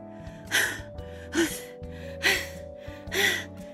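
A storyteller's voice imitates a tired dog panting: four breathy, evenly spaced pants, close and clear, over a soft steady musical backing.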